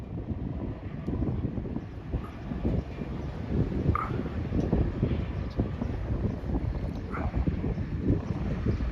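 Gusty wind on a blustery riverside day rumbles steadily against the microphone, a low continuous roar with irregular surges across nine seconds and no speech.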